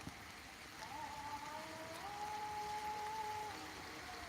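Steady rain falls over farmland during a heavy downpour, a dense even hiss that holds throughout with a faint tonal whine drifting in the background.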